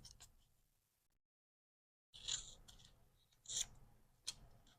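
Scissors make about three crisp, quiet snips while cutting paper during a craft project with dictionary pages and tape. The cuts come close by after a brief silence.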